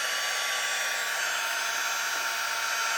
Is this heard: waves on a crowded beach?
no